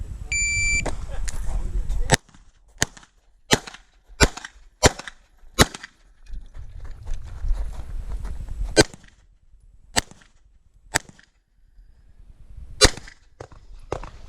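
Pistol gunfire at an IDPA shooting match: about a dozen sharp, loud single shots in an uneven rhythm, some in quick pairs, with a shot timer beep at the start and crowd noise and talk between strings.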